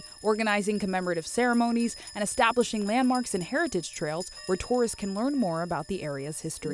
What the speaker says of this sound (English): That sound you're hearing is the sound of bells as the community of Africatown commemorates 400 years